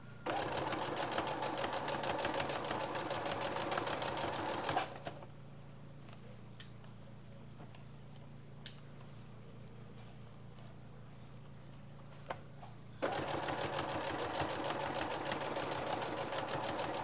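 A domestic sewing machine stitches fabric for a Christmas craft, running in a loud steady hum, stopping for several seconds of near quiet with small clicks as the work is turned, then starting again.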